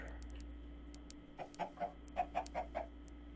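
Chickens in the Minecraft video game cluck in a quick run of about eight short, soft calls over a low, steady background hum.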